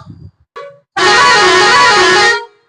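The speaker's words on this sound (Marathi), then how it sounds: "गाडीला लाला हॉर्न वगैरे सगळं फिटिंग करून दिले" A lala horn fitted on a vehicle gives two short musical toots, then one long, loud, sustained multi-tone blast that cuts off abruptly.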